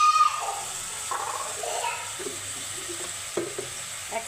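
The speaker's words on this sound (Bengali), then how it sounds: "এখন এগুলো সবগুলো একসাথে ভালো করে কষিয়ে নেব।" A blended paste of garlic, nuts and fried onion sautéed in a pan, with soft sizzling and occasional stirring scrapes, close and moderate in level.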